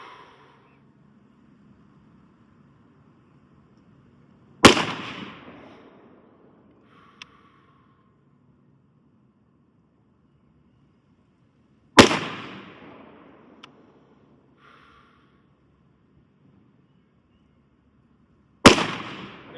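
Three loud, sharp AR-15 rifle shots fired at a target outdoors, spaced several seconds apart, each a hard crack followed by a short decaying echo, with faint quieter clicks between them.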